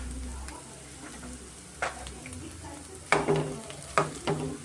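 Cooked rice is being stirred into fried egg in a pan with drumstick leaves for egg rice, with a soft sizzle underneath and several sharp scraping clatters of the spatula toward the end.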